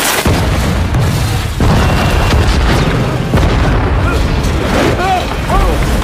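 A bomb blast tears through a tower in the war-horror film Overlord, a loud, sustained rumbling boom with crackling debris and a continuous roar across the whole stretch, mixed with faint voices.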